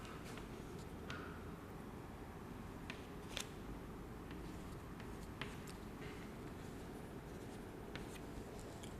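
An example being written on a classroom board during a Hindi revision lesson: faint, sparse scratchy taps and strokes scattered across a quiet background, with no talk.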